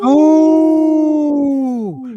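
A voice howls like a wolf in a single sustained, loud, wavering call that rises at the start and slides downward at the end, imitating a wolf during a Minnesota radio show segment on wolf awareness.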